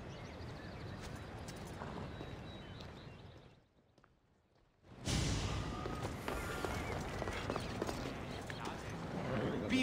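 Horse hooves clip-clop steadily in Assassin's Creed Odyssey, The Fate of Atlantis, as a mount is ridden along, dropping out briefly before resuming at a louder, busier pace without speech.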